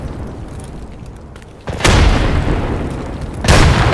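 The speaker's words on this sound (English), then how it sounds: "Grenade out." A grenade explodes in the video game Escape From Tarkov with a loud, deep boom that starts suddenly and rumbles on. A second burst follows close behind it over steady background noise.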